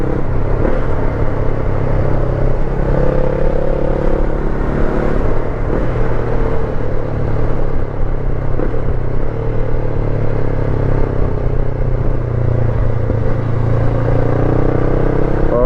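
A Honda NX500 motorcycle with a newly fitted exhaust, ridden on the road: a continuous deep engine rumble with a faint clattering edge, heard from the rider's position, steady and loud with no talking.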